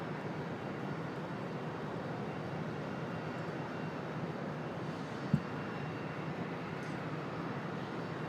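An airliner landing on runway 23 left at Raleigh Durham International Airport, a steady, broad engine roar heard from a distance and holding at an even level, with a brief thump in the middle.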